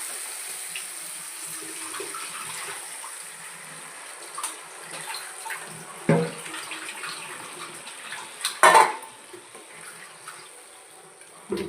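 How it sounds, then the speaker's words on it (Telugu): Tamarind juice is poured into a pan of fish curry, giving a soft, continuous watery trickle with a few louder splashes and clinks near the end. "ఇప్పుడు చింతకాయ పులుసు వేసేసుకుందాము"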